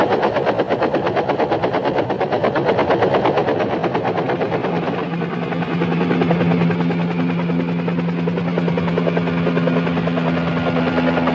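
A helicopter roars steadily with fast rotor chopping, loud and close throughout, joined midway by a low droning engine hum.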